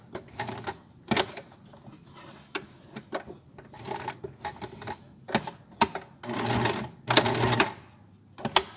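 A sewing machine stitches a child's fabric face mask in short, clattering bursts of needle action separated by pauses, close up with no talking.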